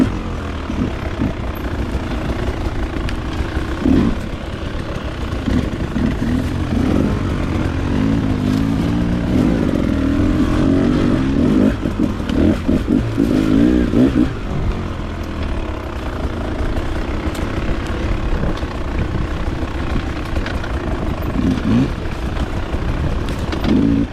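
A two-stroke dirt bike, a KTM 300 XC or Beta 300 RR, rides in second gear with a continuous raspy engine drone that rises and falls with throttle for the whole stretch, close and steady, with no talk.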